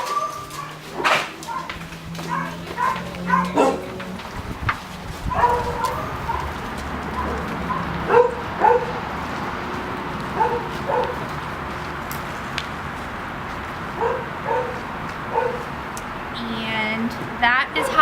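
A dog barks and yips in short bursts during urine collection at a veterinary setting, with people talking throughout and birds faintly in the background.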